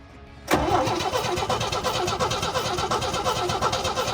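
An old Scout's engine cranks on a start attempt, a sudden onset of steady, rhythmic churning that carries on loudly and close for several seconds without catching, with no voice over it.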